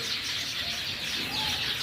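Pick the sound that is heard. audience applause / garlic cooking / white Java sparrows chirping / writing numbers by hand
white Java sparrows chirping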